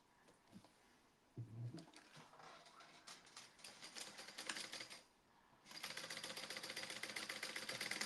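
A sewing machine stitches across a fabric gusset, with a quiet rapid mechanical rattle that builds, pauses briefly, then resumes as a steady, even whirring run.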